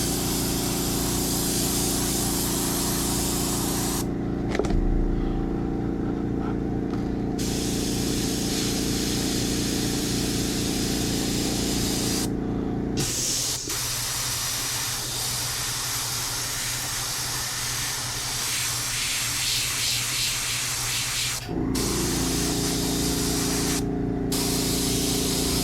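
An airbrush sprays paint in a steady, continuous hiss that cuts off briefly several times between bursts, with a constant low compressor hum running underneath throughout.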